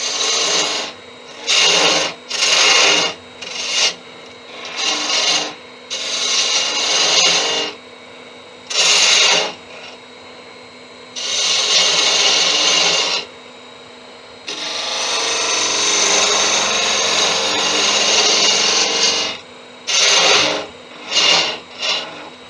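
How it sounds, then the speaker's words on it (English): A detail gouge cuts a wooden shop mallet spinning on a lathe, giving loud rasping, hissing scrapes in repeated bursts of varying length with short pauses between passes, close and steady. "Okay, detail gouge to sort out this end of it."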